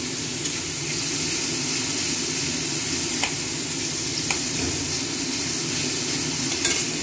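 Mixed vegetables sizzle and fry steadily in a hot pan, a constant loud hiss with occasional stirring scrapes and soft clicks, no voices.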